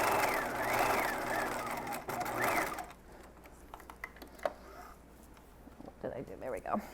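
A sewing machine stitches the side seam of a wiggle dress in a steady mechanical run for almost three seconds, then stops, leaving quiet handling noises and faint room sounds.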